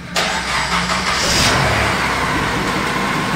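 A 2003 Honda Accord LX with a 2.4L engine and a newly installed clutch cranks and catches, then idles loudly and steadily close by, with no voices.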